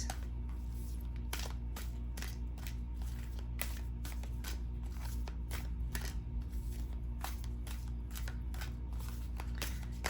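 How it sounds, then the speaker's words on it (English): A deck of oracle cards is shuffled by hand, rapid repeated riffling snaps and soft slaps close to the mic, continuous and brisk over a low background hum. "Let's draw some of these cards, some of these oracle cards"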